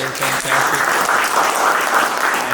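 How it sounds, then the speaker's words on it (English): An audience at a real estate investing panel discussion breaks into loud, sustained applause close by, with a voice speaking briefly over the clapping. "Give it a round of applause one more time for these guys."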